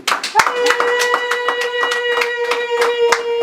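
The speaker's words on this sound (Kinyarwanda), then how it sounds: "Amashyi y'impundu" Rhythmic applause at a Rwandan wedding ceremony, steady hand claps over a sustained high ululating tone, loud and close, with voices mixed in.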